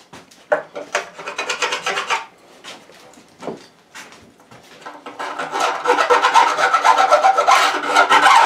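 A metal file dresses the fret ends on a guitar, making close, loud rasping strokes. They come first in quick rhythmic bursts with pauses, then in a longer steady run of back-and-forth filing.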